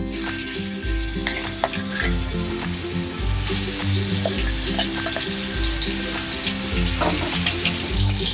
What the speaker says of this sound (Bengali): গোলমরিচটা একটু নেড়ে নেবো এবার যে চিকেনটা আমি কিমা করেছিলাম সেটা দিয়ে দেবো